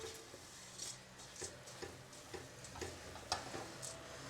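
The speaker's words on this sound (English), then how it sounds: "And we're gonna stir, stir, stir." Oats for homemade granola stirred and toasted in a pan, a faint, close run of soft regular scrapes and light ticking sizzle with no talking.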